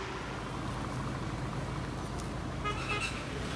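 Traffic jammed at a closed railway gate on the road toward Alappuzha, with a continuous rumble of idling vehicles and a short car horn toot near the end, moderately distant.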